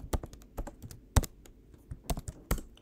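Code being typed on a computer keyboard: a close, quiet run of irregular key clicks with short pauses between bursts, no talking.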